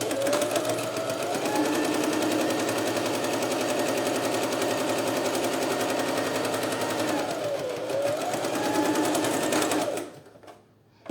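Sewing machine stitching along the edge of a synthetic leather wallet, a loud, steady rapid needle chatter running continuously for about ten seconds at close range, with a slight change in pitch midway before it stops.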